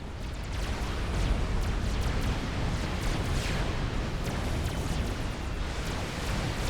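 Artillery bombardment in a Forged Alliance Forever real-time strategy match, Cybran against Seraphim: a dense, continuous rumble of booms and blasts with no pauses, loud and steady throughout.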